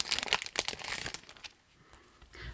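A crinkly foil pack of planner stickers is opened up close, its loud crackling and rustling strongest at first, then fading to a quiet pause before a last crinkle, with no voice over it.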